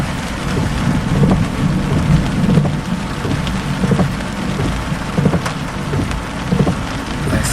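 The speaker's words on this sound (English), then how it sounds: "On the rear side of the storm where it's usually nice to watch lightning." A Florida thunderstorm: steady, heavy rain drums on surfaces with rolling thunder rumbling throughout, loud and continuous with no voices.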